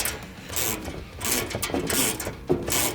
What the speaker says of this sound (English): push the bolt all the way through. Get that nut started.